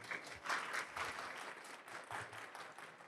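Audience applause fills a short stretch at a talk on empowering employees, a soft, even patter of many hands clapping at a distance.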